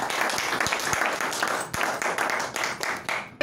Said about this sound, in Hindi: एक बार इसके लिए ताली जमाऊंगा।